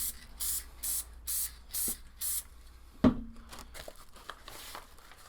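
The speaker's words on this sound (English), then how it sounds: "we're going to go ahead and just use some spray adhesive." Spray adhesive from an aerosol can hisses onto a painted model tree in five short, even bursts, followed by a sharp knock and soft rustling handling sounds.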